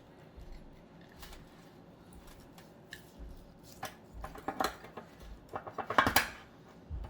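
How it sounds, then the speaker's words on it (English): Knife slicing through a smoked beef rib from a Stumps smoker: several soft scraping and tapping strokes against a board and plate, growing sharper and louder toward the end, close by with no talk. "I will cut a slice off"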